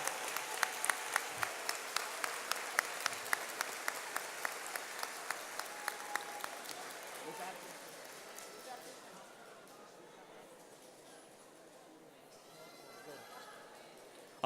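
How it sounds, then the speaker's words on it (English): Applause from a school back-to-school convocation audience after Rangerville Elementary is recognized, steady dense clapping that thins and fades out over the second half, heard in a large indoor hall. "Another round of applause."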